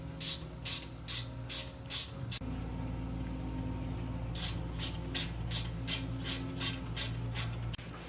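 A hand ratchet tightens the brake rotor bolts on a Subaru Legacy GT, giving rapid bursts of close clicking in two runs with a short pause between them. A low steady hum sits underneath.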